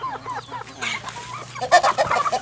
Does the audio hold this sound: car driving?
no